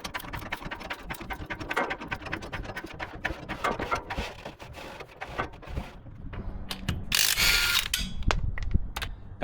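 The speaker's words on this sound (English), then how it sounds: "I've got my floor jack sitting here on the tread" A floor jack being pumped to raise one side of a Ram 4x4 for a tire change, giving a steady run of close ratcheting clicks and mechanical clanks, with a brief louder metallic hiss near the end.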